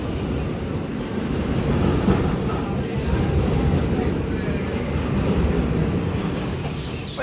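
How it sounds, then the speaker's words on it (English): Rumbling interior of a moving New York City subway train bound for the Bronx, a steady low roar with rattling and occasional clanks, loud and continuous. "So right now we're on the train heading to Grand Central."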